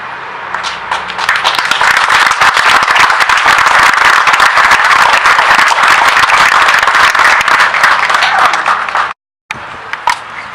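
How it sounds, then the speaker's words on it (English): A crowd at a charity hero walk event gives a loud, sustained round of applause, thick and continuous for about nine seconds before it cuts off abruptly, followed by a few scattered claps. "I want to give you guys a round of applause."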